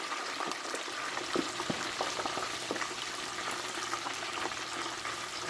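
Pre-boiled bratwursts deep frying in hot oil, a dense continuous sizzle and bubbling hiss with small pops, steady and fairly close throughout.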